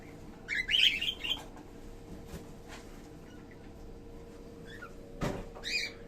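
Cockatiels chirp in short bright bursts from a balcony breeding aviary at home, a cluster of calls near the start and another near the end, with quiet rustling and a low steady hum between.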